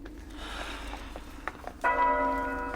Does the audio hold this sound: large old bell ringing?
yes